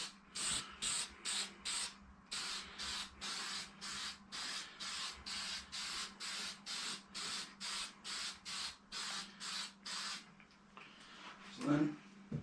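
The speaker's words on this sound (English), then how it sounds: "I'm going to coat on here, just be careful to not make it runny." Short bursts from a spray can laying a coat of paint on an RC car body, about twenty evenly spaced hisses in a steady rhythm, close and fairly loud, with a low hum underneath and a brief knock near the end.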